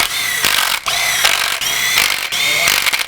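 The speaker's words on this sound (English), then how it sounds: "I'm going to rattle them in with a 3/8 gun." A 3/8 impact gun rattling bolts into a Ski-Doo 850 Summit install, three close loud hammering bursts with short pauses between.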